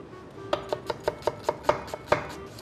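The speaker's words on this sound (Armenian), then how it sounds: "Սոխը կտրատենք ոչ շատ մանր" Knife chopping an onion on a board for an Armenian fried-onion dish: about nine crisp, evenly spaced cuts, close and clear, with no talk.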